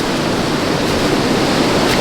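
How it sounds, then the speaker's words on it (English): Strong wind roars continuously outdoors in a garden, a loud, steady rush of noise buffeting the area with no voices. "It's a bit windy, isn't it?"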